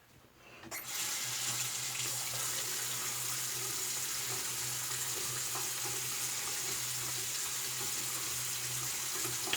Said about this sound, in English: All right, give it a rinse, hang it up for a second.